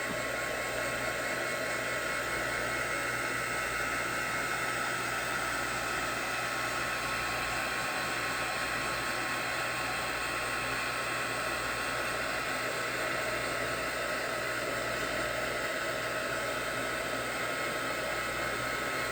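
Dryer blowing air over an art journal page being dried during a scrapbooking session: a steady, unbroken whooshing hum that holds at constant loudness throughout, alone and close by.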